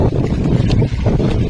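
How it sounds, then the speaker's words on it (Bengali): A fishing boat pushes across rough water in the Sundarbans, giving a loud, steady rush of wash and wind noise close to the microphone, with no voices. "নৌকা যাচ্ছে।"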